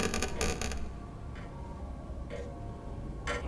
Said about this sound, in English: creaking woodwork